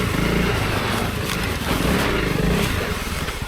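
A heavy adventure motorcycle on a dual-sport trail idles and chugs roughly as it is spun around, its engine a close, steady rumble with scraping and crunching ground noise mixed in.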